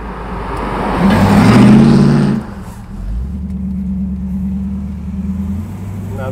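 A 1968 Pontiac Firebird 400 V8 on a Hong Kong street: its exhaust swells into a loud rev, then falls back to a deep, steady rumbling idle close by.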